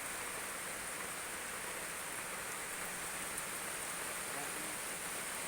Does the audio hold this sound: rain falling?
yes